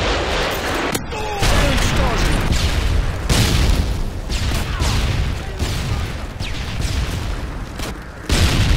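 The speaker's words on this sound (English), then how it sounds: "Friendly predator missile inbound." A Predator missile detonates on the Sub Base map during a Ground War match in Modern Warfare 2, with heavy booming blasts and rumbling debris that roll on loudly for several seconds.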